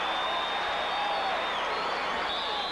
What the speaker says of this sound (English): Fans applaud the decision.